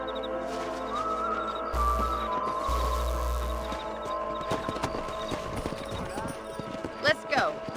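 Horse hooves clip-clop in Red Dead Redemption as riders set off at night, a steady near rhythm under a man's dialogue, with occasional heavier thuds and brief music swells.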